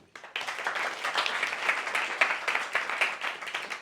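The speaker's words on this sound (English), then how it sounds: "Round of applause for Lisa." An audience at a recruitment talk gives a round of applause, a moderately loud, dense patter of many hands clapping that swells after a brief quiet start and holds steady.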